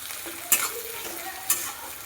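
Onions fry in a pan with a soft, steady sizzle, broken by two quick scraping stir strokes about a second apart.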